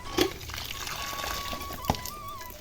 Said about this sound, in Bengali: মাছটা বের করে মাছটা ধুতে যাব